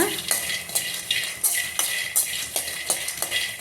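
Peanuts dry roasting in a pan, rattling with repeated stirring strokes that give sharp spoon-on-pan scrapes roughly every half second over a light hiss, no talk.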